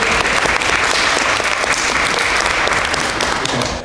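A lecture hall audience at Moscow State University breaks into loud, sustained applause welcoming a British biogerontologist to the stage, dense clapping filling the room for several seconds without speech.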